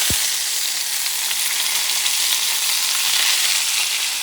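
A thick ribeye steak sears in a pan, giving a loud, steady, close sizzle with a dense hiss throughout and no talking.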